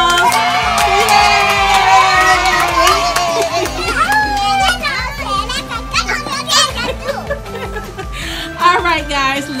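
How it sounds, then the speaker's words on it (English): Children and adults at a home Mentos and soda experiment cheer and shout for two helpers, a lively jumble of excited kids' voices, squeals and laughter close by, with talking throughout. "Everybody give them a round of applause."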